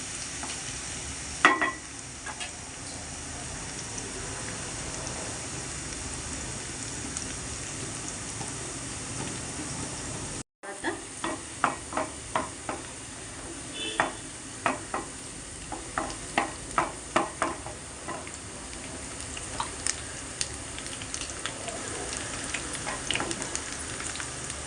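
Onions fry in a pan with a continuous close sizzle while a spoon stirs them, adding repeated light scraping clicks that grow more frequent after a brief cut midway. Nobody speaks.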